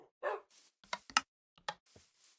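A short series of dog barks and yips in a Minecraft trading card game sound effect, several sharp close barks in quick succession with brief gaps.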